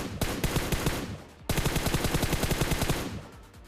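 Rapid bursts of M4 automatic rifle fire in a video game, loud and close, in two sustained volleys separated by a brief pause.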